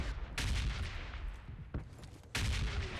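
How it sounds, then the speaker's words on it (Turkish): A grenade explodes in PUBG Mobile Lite: deep booming blasts sound loud and close, with two sharp explosive onsets followed by rumbling, noisy decay. "Bomba patladı."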